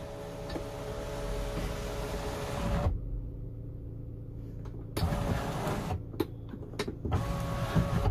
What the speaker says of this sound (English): This sunroof will simply slide toward the back and front of this vehicle when you activate it.